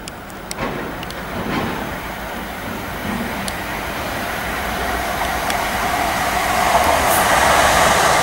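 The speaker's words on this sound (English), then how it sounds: "Here comes a train." A Class 377 train rumbles through Aldrington Station with a steady roar that gradually grows louder, a few clanks and squeals of wheels on rails sounding through the noise.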